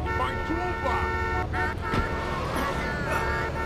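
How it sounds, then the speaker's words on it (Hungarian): Car horns honking in Grand Theft Auto III street traffic, several bright sustained toots sounding over engine noise, with someone talking throughout. "De mit dudálsz?"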